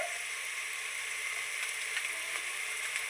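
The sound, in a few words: onion and garlic sautéing in a pan for soya chunk curry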